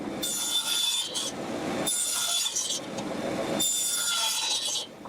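A power tool cuts wood for a Christmas luminaire in a workshop, three harsh rasping passes of a few seconds each, separated by brief lulls, close and fairly loud with no talk.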